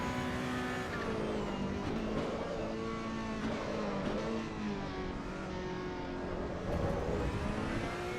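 A GT3 race car in Assetto Corsa EVO howls at high revs, its engine note dipping and rising as the driver lifts off in 7th gear, a steady close whine with shifting harmonics.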